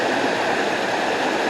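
A heavy river rushes steadily near a hidden waterfall in the hills of Portland, Jamaica, a loud, close, unbroken roar of churning water with no voices.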